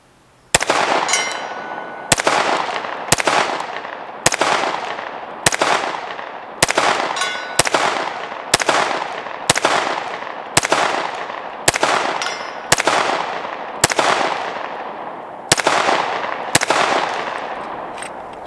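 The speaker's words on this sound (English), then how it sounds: "Probably shooting a little too fast for shooting at 100 yards" A PSA Micro Dagger pistol fires at a steel target 100 yards away, about fifteen sharp shots at a fairly brisk, even pace. Each loud crack rings out with a metallic clang and a decaying echo.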